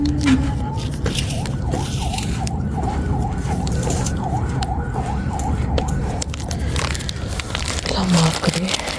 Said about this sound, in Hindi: माफ करे, एम्बुलेंस की आवाज़ आ रही।